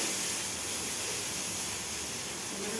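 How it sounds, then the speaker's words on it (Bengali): Okra frying lightly with a little salt in a pan, a steady even sizzling hiss throughout with no pauses or voices. "ঢেঁড়সটা হালকাভাবে ভেজে নেব।"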